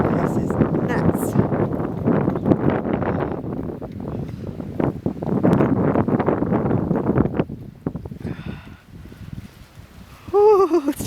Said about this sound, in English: It is so cold and windy.